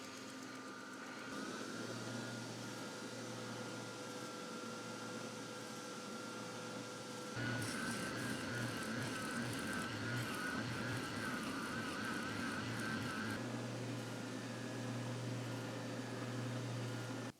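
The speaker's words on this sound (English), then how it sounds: "With my sander, I'm going to refine the shape of the jaws and of the handles." Power sander refining the shape of wooden clamp jaws and handles for an MFT-style workbench; a steady, loud motor whine with a constant hum that shifts to a harsher, rougher grind midway as the wood is worked, then steadies again.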